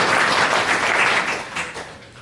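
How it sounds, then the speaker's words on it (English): An audience breaks into a brief burst of applause. The dense clapping starts loud and fades slightly over about two seconds, with no talking over it. "But she deserves a round of applause too."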